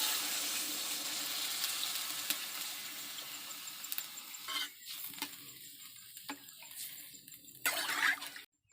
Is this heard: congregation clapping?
no